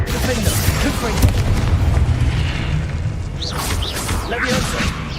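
A Confringo fire spell blasts in the Hogwarts Legacy video game, a dense booming explosion rumbling steadily for several seconds amid game combat noise.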